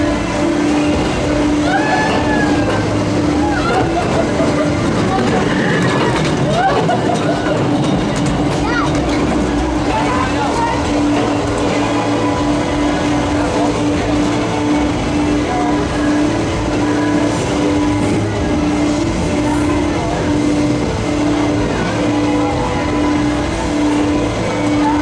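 The Runaway Train family roller coaster at Botton's Pleasure Beach, Skegness, rumbles along its track in a long, loud, steady rattle with clattering wheels, while riders' voices and shouts come through over the noise.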